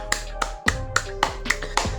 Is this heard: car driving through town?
no